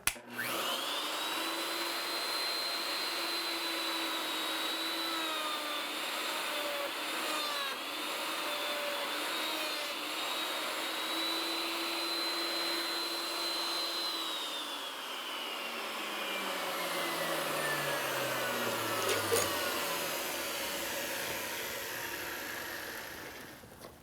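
A homemade horizontal mortiser cutting a mortise in clamped wood runs with a steady, loud motor whine and cutting hiss, then winds down with a falling tone as it switches off, with no talking.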